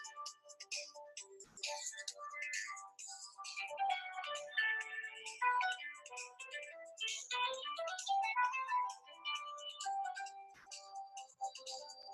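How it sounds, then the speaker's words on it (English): A mobile phone ringtone plays a busy, chiming electronic melody that continues steadily for about twelve seconds at moderate level, with no speech over it. "my phone was ringing."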